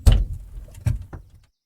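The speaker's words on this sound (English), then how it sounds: "Quick, open the doors." Doors are pushed open in a few quick heavy thuds and clunks, close and fairly loud, with a short gap between the first bump and the last two knocks, then silence.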